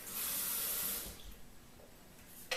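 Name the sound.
water poured into blender for green smoothie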